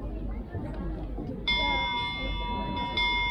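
Bells rung by pulling strings at a Japanese shrine sound clear metallic tones that start midway and sustain, then ring again. Crowd murmur and voices fill the background.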